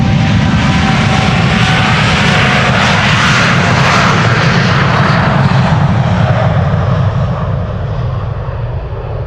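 KLM Flight 601 departs Amsterdam Schiphol for LAX, a loud, close jet roar building in the middle and easing slightly toward the end.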